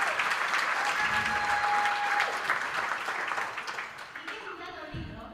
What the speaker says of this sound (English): yes, applaud.